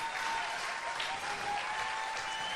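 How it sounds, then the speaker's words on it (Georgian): Studio audience on a Georgian TV singing show applauds a singer, a continuous, fairly soft wash of clapping from a crowd with no break. "აპლოდისმენტები"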